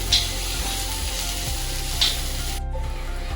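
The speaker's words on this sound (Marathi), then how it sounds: "आपला हा कांदा चांगला आता सोनेरी कलर येईपर्यंत फ्राय झालेला आहे" Onion frying in a pan until golden, a steady broadband sizzle with a couple of brief scraping stir sounds, close and continuous.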